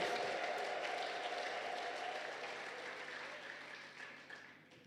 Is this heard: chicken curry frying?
no